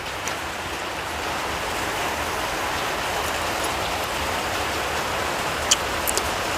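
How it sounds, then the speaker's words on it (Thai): Heavy rain pours down loudly and steadily in a dense, unbroken wash, with a few brief knocks near the end and no talking. "ฝนตก เฮ้ย ฝนตกแบบเสียงดังมาก"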